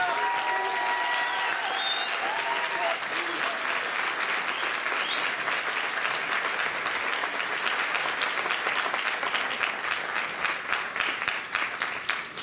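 A large graduation ceremony audience applauding steadily to welcome a speaker to the podium, with dense, even clapping that fills the hall throughout and a faint voice or music briefly at the start.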